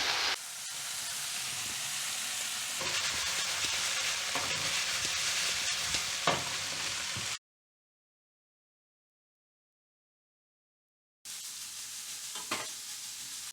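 Red and green peppers and onions sizzle steadily in a hot pan with occasional stirring scrapes, close up, broken by a short silent gap before the frying resumes.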